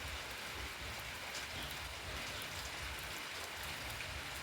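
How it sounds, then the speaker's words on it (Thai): Rain falling steadily, an even dense hiss of drops pattering on surfaces, close and continuous with no talk. "ฝนตก"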